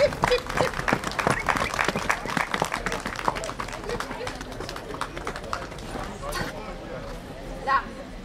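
Crowd applause at a Boulonnais horse show for a six-year-old mare, a patter of clapping that is livelier at first and then thins, with an announcer talking over it and a few hoof thuds.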